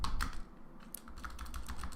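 Quiet, rapid keystrokes on a computer keyboard as a single word is typed, an irregular run of soft clicks with no talking.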